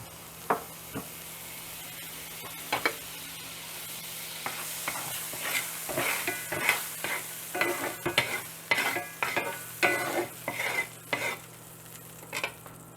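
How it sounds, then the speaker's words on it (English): Vegan butter sizzles in a hot frying pan, a steady crackling hiss broken by sharp pops and spits that grow busier toward the end, with no voices. "add my earth balance to the pan and just like, first of all, enjoy that sizzle"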